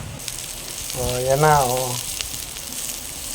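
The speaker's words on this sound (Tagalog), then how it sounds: "Gigisa lang natin yan hanggang lumabas yung masarap na amoy ng aroma ng tatlong kombinasyon na yan." Onion, garlic and other aromatics for chicken tinola sizzle in a pan with a soft, steady hiss beneath a voice speaking briefly in the middle.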